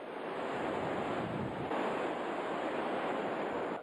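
Super Typhoon Megi roars as a loud, unbroken rush of wind and crashing waves, with heavy buffeting noise against the microphone and no voices heard.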